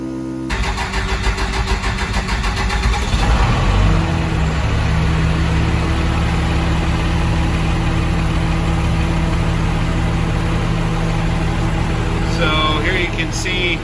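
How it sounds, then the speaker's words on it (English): A Cummins 6BT diesel swapped into a 1979 Ford F250 with compound twin turbos cranks over, catches and settles into a loud, steady idle, close by with no talking. "I'm gonna turn the key on so you guys can hopefully hear how loud that fast system is"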